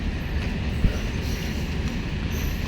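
A train stands at Anakapalli railway station platform, heard as a steady, loud mechanical rumble with one brief sharp clank partway through.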